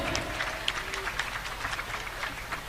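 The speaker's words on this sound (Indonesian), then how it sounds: "Tepuk tangan sekali lagi buat para finalis." Audience applause at the close of an Aswaja debate competition final, honouring the finalists: dense, steady clapping from a crowd that holds a fairly even level for the whole stretch.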